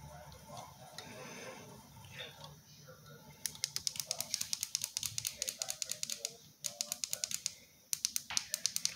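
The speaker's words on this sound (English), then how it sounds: "That clicking sound is my remote to control the light." Remote control for a light clicked rapidly, bursts of sharp close plastic clicks in quick runs across the second half, after quieter background sounds at the start.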